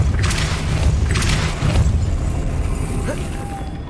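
A Depulso spell cast in Hogwarts Legacy on PS5, a deep booming thump with a low rumble and a few bright whooshing bursts, fading into a lighter magical shimmer, loud and close.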